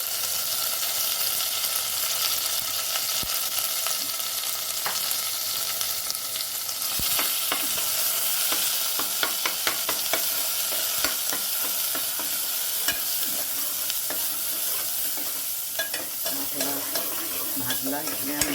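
Kolhapuri mutton masala roasting in oil in a pan, a steady sizzle with repeated scraping clicks of stirring throughout.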